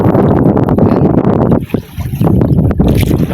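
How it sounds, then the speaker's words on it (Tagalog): Steady roaring wind buffets the microphone, loud and continuous with a brief lull midway, with faint creaks and splashes beneath. "Bali mahangin na po."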